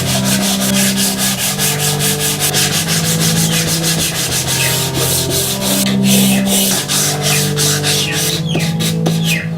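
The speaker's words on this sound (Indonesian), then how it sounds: "Kemudian saya amplas untuk merapikan sambungan bingkainya" Steady scratchy rubbing of sandpaper on a wooden frame joint of an LED panel lamp, back-and-forth strokes repeating rhythmically, close and loud throughout with a faint low hum underneath.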